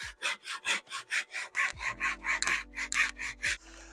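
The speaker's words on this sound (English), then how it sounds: "you're pulling, and so it can have a very thin kerf, which makes sawing much easier." Japanese pull saw cutting wood with a thin kerf, steady rhythmic rasping strokes, about fifteen in quick succession, close and clear, with a low hum entering partway through.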